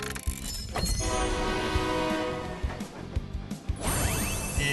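A train sequence in a 3D anime-style gacha game, triggered by pulling a lever: a dense rumbling mechanical roar with layered tonal whistle-like lines, steady and loud, swelling again near the end.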